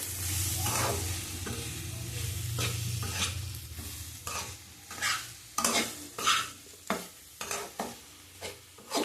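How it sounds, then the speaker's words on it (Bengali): Amudi fish frying with tomato in a pan, a steady sizzle at first, then repeated rhythmic scraping strokes of a spatula stirring the mixture, close and moderately loud, no talk. "ভালো করে কষিয়ে নেবো। এবার টমেটো দিয়েছি"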